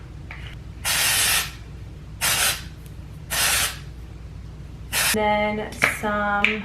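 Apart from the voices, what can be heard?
spraying Stronghold hairspray on hair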